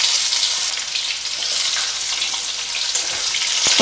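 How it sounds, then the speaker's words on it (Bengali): Bitter gourd pieces sizzle steadily in hot oil tempered with mustard and radhuni for Bengali motor dal, a loud, continuous close-up frying hiss with faint crackles throughout. "উচ্ছেগুলো ভালো করে ভেজে নেব।"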